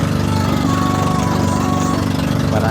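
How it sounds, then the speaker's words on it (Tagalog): Motor of a small outrigger boat on the sea off Lobo, Batangas, droning loud and steady at close range with a buzzing, lawn-mower-like tone and no pauses. "maingay din yung motor, yung bangka natin medyo maingay yung makina."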